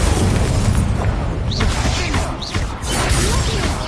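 The Incendio fire spell goes off in a Hogwarts Legacy dueling match. Loud, dense bursts of flame blend with roaring whooshes and booming impacts in a continuous wall of game effects.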